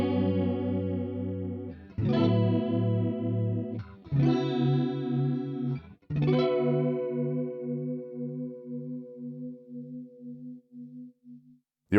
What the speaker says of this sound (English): So you can set the chorus the way you want it